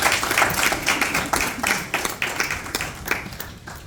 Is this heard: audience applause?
yes